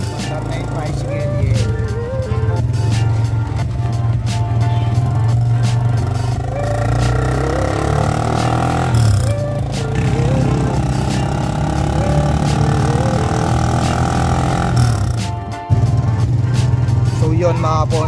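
A tricycle motor drones steadily while riding, a low continuous hum close by with rattling and clatter, under ongoing talk and background music.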